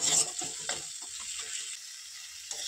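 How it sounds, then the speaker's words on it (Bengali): Spice paste with tomato sauce is stirred in a pan. A quiet sizzle sits under a burst of scraping and clicking strokes near the start, then settles to a faint hiss with one more scrape at the end. "এবার 2 চামচ মতো টমেটো সস দিয়ে দেবো। এবার মশলাটাকে ভালোভাবে আমরা"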